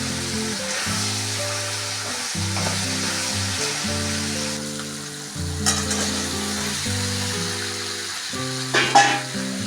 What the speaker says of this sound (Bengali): মশলাটা ভালো করে ভেজে নিলাম